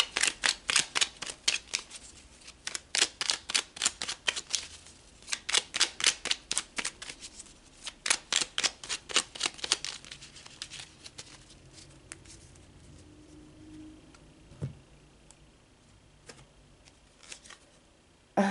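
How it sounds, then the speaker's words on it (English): Tarot cards shuffled by hand in quick rhythmic bursts of crisp riffling, close and fairly loud, pausing briefly between runs, then a few quieter single cards being drawn and laid down with faint handling noises toward the end. "let's pull some more cards about that."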